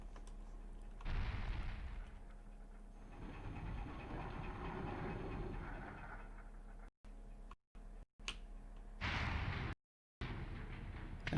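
Gunfire in the 1998 survival-horror game Resident Evil 2, heard as loud abrupt bursts at the start and again near the end, separated by a stretch of steady in-game rumble and ambience.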